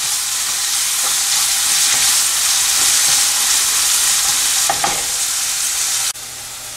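Chicken for spicy Chettinad chicken varuval sizzling loudly in a pan, a thick, steady hiss with a few stirring scrapes near the end before the sound drops abruptly.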